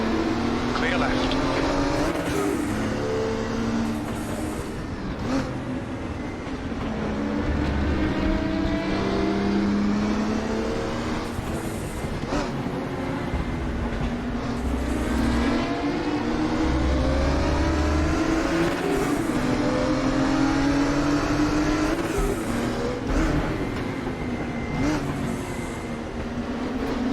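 Race car engines from a sim racing game, RaceRoom or AMS2, droning steadily with rising and falling pitch as gears change throughout, with a voice speaking over the constant engine noise.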